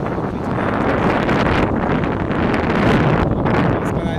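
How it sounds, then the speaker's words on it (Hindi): Loud, strong wind at a highway bridge lined with fruit stalls, buffeting the microphone in a continuous roaring rumble with gusty surges and brief dips, with no talking over it. "यहाँ पर सुंदर चल रही है, काफ़ी तेज हवा।"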